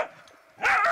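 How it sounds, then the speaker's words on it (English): Dog barking outdoors in an autumn setting: one soft, short yelp, then a louder, sharp bark close by, with no talk. "This is quite the place for dogs, I'll say that."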